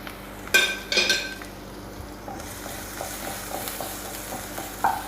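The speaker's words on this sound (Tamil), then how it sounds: "பொடியாக நறுக்கி வச்ச பூண்டு இதில் ஆட் பண்ணிக்கலாம்." Finely chopped garlic drops into a pan of hot oil and sizzles steadily, with a few clinks of a spoon against the pan and stirring sounds, no talking.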